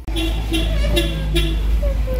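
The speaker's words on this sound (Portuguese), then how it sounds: "olha o carro buzinando, ó." A car horn sounds on a street with several short, close toots over a loud, low traffic rumble.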